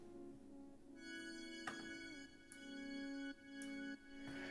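Several layered synth parts play sustained chords that trace the harmony, steady and full, with soft percussive ticks and a swell in level around each chord change; no voices.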